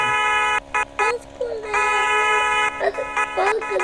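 A car horn honks in short repeated toots, some long and some brief, with people talking over it.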